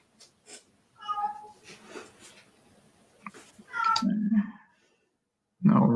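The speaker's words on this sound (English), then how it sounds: "Somebody's got a kitty cat who wants to say hello." A cat meows several times, short calls then longer drawn-out mews, fairly close and clear, with quiet gaps between them.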